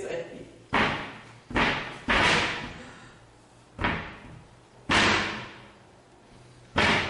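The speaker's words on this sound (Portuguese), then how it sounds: "Não bater assim na porta." A child bangs on a door at home, five or six hard slams spaced irregularly about a second apart, each a loud close thud that rings out and fades, with an adult voice faintly present between the hits.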